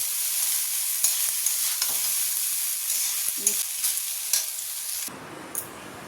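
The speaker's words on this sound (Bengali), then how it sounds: "এবার জাস্ট ভালো করে ফ্রাই করে নেব" Food fries in a pan with a steady bright sizzle, punctuated by sharp clinks and scrapes of a stirring utensil, before the hiss drops abruptly quieter near the end.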